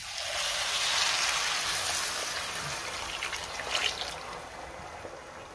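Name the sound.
hot water poured into rice in a pot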